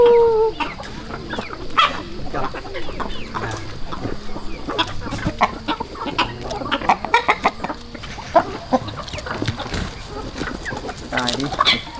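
Domestic egg-laying hens cluck steadily in a farmyard, many short overlapping calls close by, with occasional sharper squawks and people chatting now and then.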